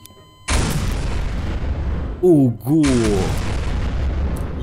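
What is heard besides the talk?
explosions in Garry's Mod video game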